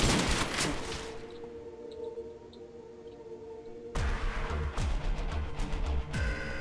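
Gunfire in Call of Duty: World at War custom zombies on a Futurama-themed map, with bursts of loud close shots, a lull filled by background game tones, then more rapid shooting.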